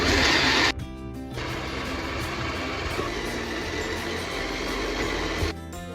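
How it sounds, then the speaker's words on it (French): Blender whirring through marinade ingredients, a steady loud motor drone that starts abruptly after a brief higher-pitched burst and cuts off near the end. "Tout ça, on va commencer à mixer. Là, on va mixer. On mixe."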